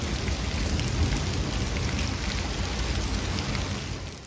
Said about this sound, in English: Here's what the heavy rain test looked like.